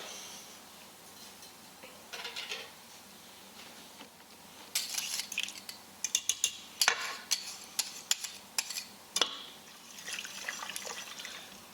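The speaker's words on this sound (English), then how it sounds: "I'm going to whisk in the sour cream." Whisk scraping and clinking through sour cream stirred into a sauce in a pot, a run of quick wet taps and swishes, close and moderately loud, with no talk.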